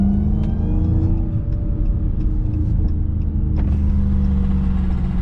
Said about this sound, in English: Sounds like exhaust hanging and touching